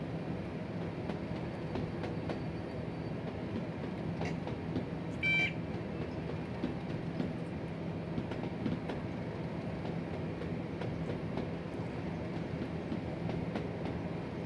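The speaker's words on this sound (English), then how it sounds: "this is a Class 37. This is a relatively old train in the UK." A Class 37 diesel locomotive, an older UK train, runs a freight service from Tilbury to Daventry in Train Simulator, its low engine rumble and rolling wheels droning steadily, with one brief electronic beep partway through.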